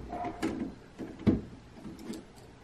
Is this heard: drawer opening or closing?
yes